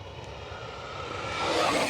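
A twin 64mm Arrows F-15 Eagle RC jet roars past, a broad turbine whoosh building steadily louder over two seconds, no talking.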